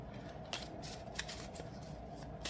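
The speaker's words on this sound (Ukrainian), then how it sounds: "Я про тасування і діставання просто якоїсь карти." A tarot card deck is shuffled up close, giving a continuous papery riffling with a few sharper flicks and snaps, fairly quiet and with no talk.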